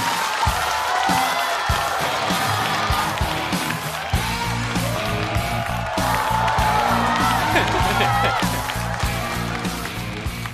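A stand-up comedy audience applauds and cheers as a guest is called to the stage, a loud, continuous wash of clapping with whoops and yells that swell in waves throughout.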